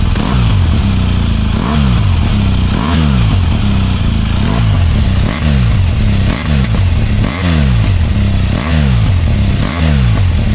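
A BMW R1200GS motorcycle engine revs repeatedly in a steady rhythm, each deep rising roar falling away before the next, loud and close with metallic clatter.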